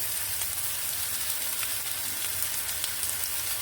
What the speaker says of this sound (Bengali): এটাকে আমি সুন্দর করে একটু ভেজে নিব